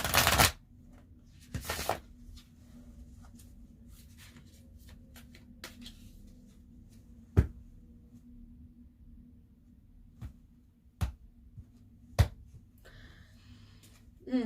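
A deck of tarot-style cards gets a few quick riffled shuffles at the start, followed by sparse soft taps and flicks of cards being handled in a quiet room.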